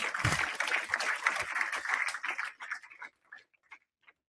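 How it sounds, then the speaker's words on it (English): An audience claps after a talk on chatbots, a brief burst of applause that quickly thins into a few scattered claps and fades to near silence. "Please applaud me."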